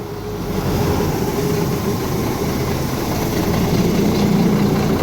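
A Kirovets K-701 tractor engine idling, a loud, steady low diesel rumble with an even throb, heard up close and alone, without speech.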